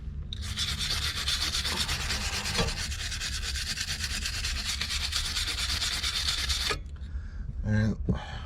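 A drilled crack on a 3.0 Mercruiser engine block being cleaned, a loud, continuous abrasive rubbing and rasping that runs for about seven seconds, then stops, followed by a few scattered clunks.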